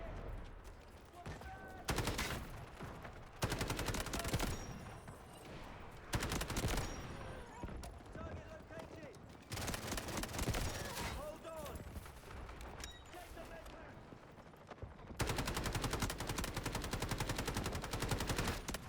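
Dense, loud bursts of automatic gunfire in the Delta Force video game, with rapid machine-gun volleys and fusillades running almost continuously, broken by short lulls, under occasional talk.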